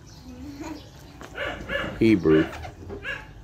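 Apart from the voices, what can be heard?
dog whimpering and barking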